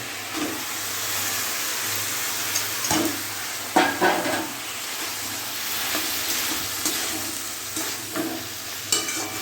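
Chopped banana flower frying in a pan for a Bengali curry, a steady sizzle with scraping stirs and sharp clatters of utensil against metal, close and fairly loud, no voices.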